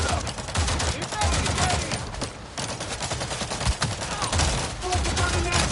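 Dense, continuous gunfire in a film firefight against Nazi soldiers, with rapid automatic bursts and loud shots packed together, close and relentless, while a voice shouts over the din.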